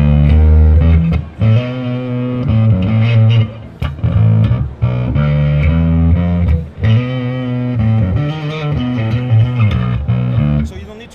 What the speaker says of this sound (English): Distortion pedal